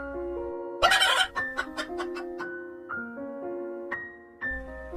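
Cartoon chicken in a Bengali animated story clucking and squawking in a quick burst, then a series of short rhythmic clucks over a steady synthesized musical backing, loud and close.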